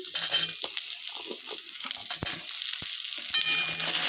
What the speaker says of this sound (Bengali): এবার আমি আলু দিয়ে দেব এবার হালকাভাবে নেড়ে নিব